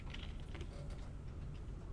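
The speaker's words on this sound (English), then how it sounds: "I'll let her finish typing here" Someone types on a computer keyboard during a programming lesson on exceptions, a steady stream of soft close key clicks with no talk over it.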